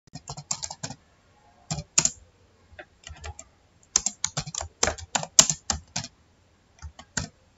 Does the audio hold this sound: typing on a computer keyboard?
yes